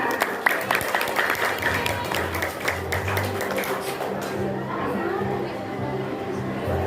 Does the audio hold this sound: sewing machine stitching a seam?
no